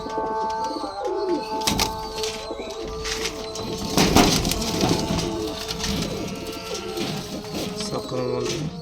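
Madras pigeons coo in repeated soft, throaty rolls close by, overlapping with wing flutters and scuffling, while a faint voice is heard in the background.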